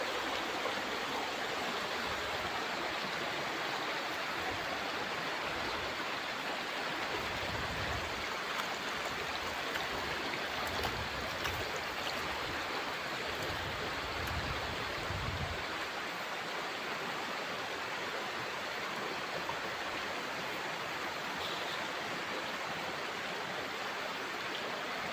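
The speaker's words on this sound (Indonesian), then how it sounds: "Rencananya kita akan menjala ikan di sini Ki, di sungai yang bersih jernih bersama Mbah Parino." A clear river rushes steadily in an even broadband wash that stays constant throughout, close and fairly loud, with faint low thumps partway through.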